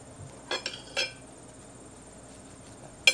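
A knife cuts down through stuffed French toast on a plate, producing a few short clinks and scrapes against the dish spread across a quiet moment, faint and close.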